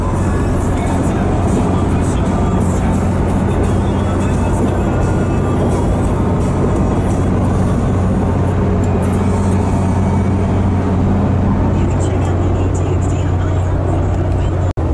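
A fully deleted 2016 Dodge Cummins diesel truck drives down the road, heard from inside as a loud, constant low engine drone and road rumble that continue unbroken throughout.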